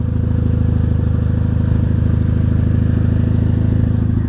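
A Mitsubishi Lancer EVO X idling with its exhaust recorded up close, a loud, steady, evenly pulsing low drone that holds constant throughout with nobody talking.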